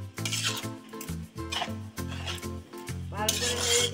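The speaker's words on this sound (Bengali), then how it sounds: "ভালো করে এটা নেড়ে দেবো।" Maggi noodles are stirred in a pan in uneven scraping strokes, close and fairly loud, over a steady humming tonal background.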